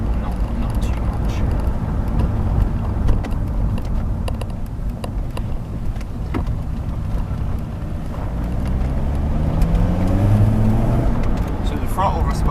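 A BMW E46 3 Series diesel with about 200k on the clock drives along, its engine and road noise a steady low rumble that swells a little toward the end, with wind and a voice talking over it.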